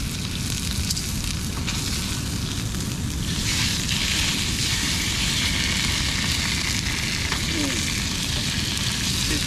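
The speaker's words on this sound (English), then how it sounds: "Sizzle, sizzle, it smells good." Miso-coated tuna sprinkled with sesame seeds fries in a hot pan at a beach campsite, a loud, continuous close sizzle and crackle with occasional stirring, and no talking.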